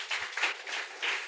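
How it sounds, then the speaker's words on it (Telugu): A church congregation claps in several short bursts, loud and close, with brief swells and dips across a short stretch and no talking. "చప్పట్లు కొట్టండి."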